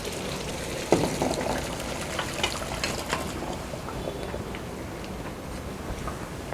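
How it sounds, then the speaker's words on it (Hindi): Chicken and its yakhni broth are poured into a kadai for dhaba-style namkeen piyaz, a wet splashing pour with a sharp start, settling into a bubbling liquid hiss, close and moderately loud. "हम चिकन और इसकी जो यखनी होगी उसको कढ़ाई के अंदर उड़ेल के शामिल कर देंगे जी"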